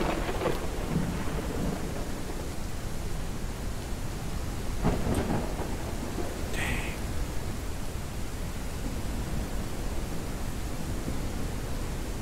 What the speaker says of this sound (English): Definitely some lightning going on out here.